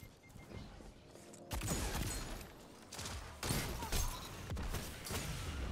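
Gunfire in the video game Ace of Spades, a series of sharp shots and impacts at irregular intervals after a quiet start, fairly faint overall with some heavier thuds.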